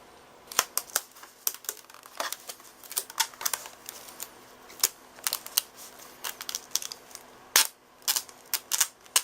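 Packing tape pulled off the roll and torn while wrapping license plates for shipping, heard as sharp, close, irregular ripping and snapping clicks scattered through the clip with no speech.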